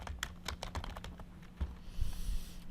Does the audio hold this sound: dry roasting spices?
no